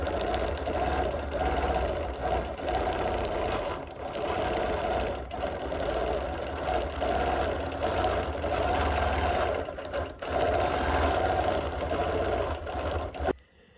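A sewing machine runs steadily, stitching a line across a quilt with a fast, even mechanical chatter close by, pausing briefly a couple of times before stopping.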